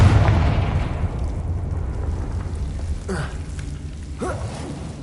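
A Confringo fire spell bursts in Hogwarts Legacy, a loud opening blast that decays into a dense rumbling roar, with a couple of sharper whooshing crackles following near the end.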